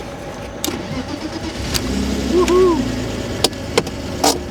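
A BMW E36 Touring imported from Germany cranks and catches, its engine settling into a steady low idle near the microphone, with a few sharp clicks and a brief cheerful shout over it.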